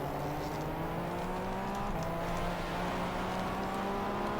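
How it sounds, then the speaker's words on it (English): A Cadillac LMP1 race car's V8 engine in the GTR2 racing game at Daytona holds a steady, deep droning note at high revs for several seconds, with the pitch shifting slightly partway through. "The dark V8 sound is one of the most beautiful."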